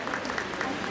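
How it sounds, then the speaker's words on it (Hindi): Brief burst of audience applause at a solo dance competition stage event, steady clapping throughout with no pauses. "इसी के साथ हम जोरदार तालियों से स्वागत करते हैं अपने नेक्स्ट परफॉर्मर"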